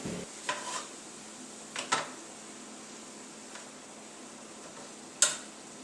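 Low-carb basil fried rice cooks in a pan with a faint, steady sizzle underneath, broken by a few short utensil clinks and scrapes spaced across the quiet stretch; no one speaks.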